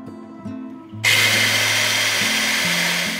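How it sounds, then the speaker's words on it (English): An old power drill drilling a pilot hole whirs up sharply after a low hum and keeps grinding steadily, loud and close, with no talking. "I'll mark both spots and drill a pilot hole first."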